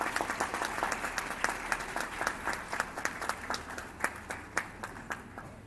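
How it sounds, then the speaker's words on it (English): Audience applause at the Justice P.N. Bhagwati International Moot Court Competition ceremony during a souvenir presentation, a moderate crowd clapping with distinct individual claps standing out, steady and fairly near throughout. "Can we have a huge round of applause?"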